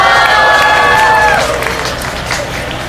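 A crowd at an evening rally against a US free trade agreement applauds and cheers, a broad roar of clapping that starts over a fading tonal sound and then settles into steady, slightly softer applause.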